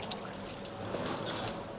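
Water is poured and trickles softly over a body during a corpse washing demonstration, a faint, steady splashing with a small drip near the start.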